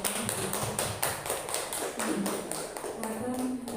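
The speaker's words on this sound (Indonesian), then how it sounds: "Kita beri tepuk tangan untuk kegiatan kita" A group of participants at the close of a school discussion session with parents clap together in a quick, rhythmic, fairly even beat, continuing for several seconds with some voices faintly mixed in.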